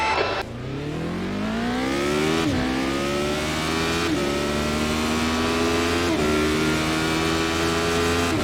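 A Radical SR8 race car launches and accelerates at Monza in iRacing, its high-pitched engine climbing through the revs in four rising pulls separated by sharp gear shifts, loud and close.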